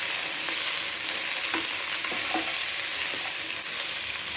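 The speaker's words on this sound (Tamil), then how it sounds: "வதங்குற வரைக்கும் நம்ம கிண்டிகிட்டே இருக்கு." Radish, carrots, broad beans and tomato sauté in a pan for sambar rice, with a steady sizzle and a spoon stirring and scraping through the vegetables in irregular strokes, close by and without talk.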